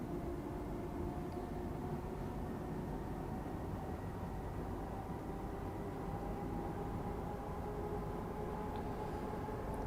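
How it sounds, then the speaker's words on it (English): A daily aggregate freight train approaches on the line from Harlow Mill to Acton in Train Simulator 2021, heard as a continuous low rumble with a faint steady hum, distant and unchanging. "just approaching is one of the daily aggregate trains from Harlow Mill running to Acton"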